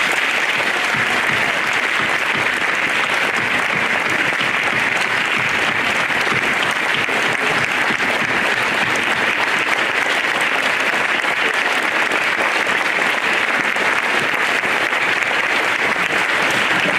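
Students at a school awards day give the Meadowbrook faculty a long round of applause. Full, steady clapping fills the room without pause for about seventeen seconds.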